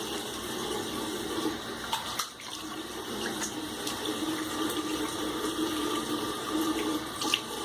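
A quick rinse of water after a shave, steady running tap water close by, splashing continuously for several seconds with small bumps and no talking.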